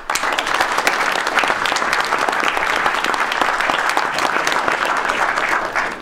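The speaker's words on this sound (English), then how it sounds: "Please give him a round of applause" Loud, even round of applause from a large audience at a university debate, as the moderator, a faculty member, is introduced; dense, continuous clapping held for six seconds without talk.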